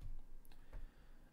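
A few soft computer keyboard keystrokes, quiet and sparse, with a faint click or two over low room hum while a command is entered on a Raspberry Pi setup.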